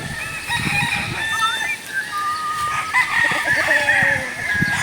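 Chickens cluck and a rooster crows repeatedly in a busy, noisy farmyard, loud and close, with faint voices mixed in.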